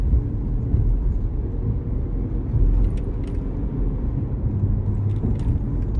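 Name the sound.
2005 Chevy Equinox driving and turning on the road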